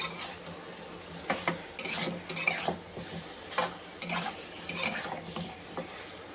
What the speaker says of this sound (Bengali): এবার এটাকে আমি একটু ভেজে নেব ভালো করে।